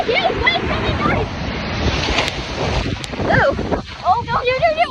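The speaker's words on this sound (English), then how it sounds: "there's a huge wave coming, guys!" A large ocean wave breaks and washes in at a beach inlet at very high tide, a loud continuous surf roar with wind buffeting the microphone while people shout and exclaim over it.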